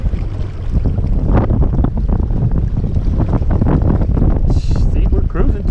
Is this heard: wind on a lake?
yes